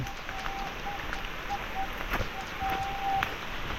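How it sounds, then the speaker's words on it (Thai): A steady, dense patter of rain falls close by, a continuous wash of noise with faint voices in the background. "ฝนตกห่ำเลย"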